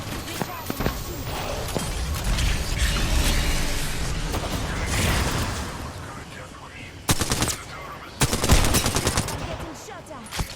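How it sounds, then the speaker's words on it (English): Video-game gunfire crackles in rapid automatic bursts and scattered single shots, some distant and some close and sharp, with two loud clusters of shots near the end, while voices talk over the fighting. "Getting shot at."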